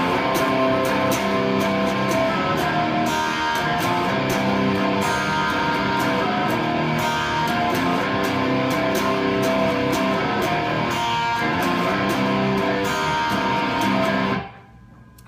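Distorted electric guitar power chords from the verse of a song, played as a loud, thick, sustained wall of sound that cuts off abruptly at the end.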